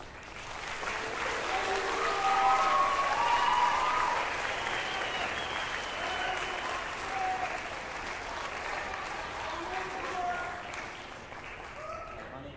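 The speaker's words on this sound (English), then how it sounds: "let's just give another round of applause for all the small ones" An audience at a high school band camp concert applauds, a dense, steady wash of clapping that swells early then eases to a lighter patter, with faint voices mixed in.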